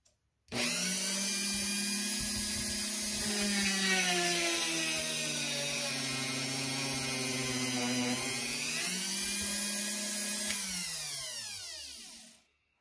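A power drill spins up and runs steadily for about twelve seconds, its pitch dipping under load mid-way, then winds down and stops.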